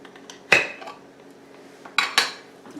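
A 22-ounce glass jar of Alfredo pasta sauce being handled and opened, with a few sharp clinks and clatters of lid and jar, close and clear, separated by quiet gaps.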